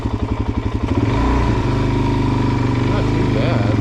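A DRZ400 motorcycle turns around on slippery snow, its single-cylinder engine thumping steadily at idle before rising into a louder, sustained revving drone, close by.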